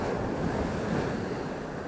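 Sea water washes up a shore and runs back out in a continuous, close rushing surf with wind noise on the microphone, heard alone without voices.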